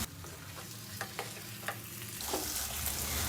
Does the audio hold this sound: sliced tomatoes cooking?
yes